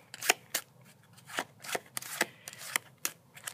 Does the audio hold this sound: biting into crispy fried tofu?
no